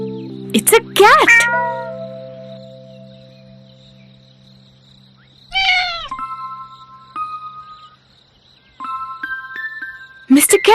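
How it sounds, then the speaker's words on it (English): A cartoon cat meows in rising, whiny cries several times, close and loud, mixed with excited cartoon voices talking and a steady high insect-like whine in the background. "It's a cat!"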